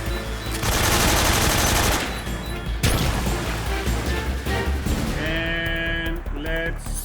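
Gunfire in Metal Gear Solid 3 while trying to shoot a grenade: a loud sustained burst of rapid automatic fire, then scattered shots and impacts with ringing game effects.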